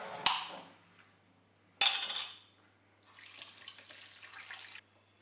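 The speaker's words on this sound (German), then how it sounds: "Wir benötigen dazu eine Schüssel und ein Sieb zum Abgießen." Cherries tipped into a sieve over a bowl to drain in a home kitchen, with two sharp clinks and pouring splashes followed by a steady rush of draining liquid, fairly quiet and without talk.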